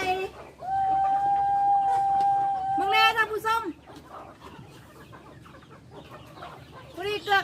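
Chickens cluck and call close by in rural countryside, with a few quick bursts and a drawn-out call, while people talk intermittently.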